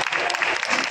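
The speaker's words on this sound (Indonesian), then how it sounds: "boleh tepuk tangan untuk Mas Iko" Audience at a talk show during the BSI International Expo 2025 clapping in a brief, dense burst of applause, fairly close, with some voices mixed in.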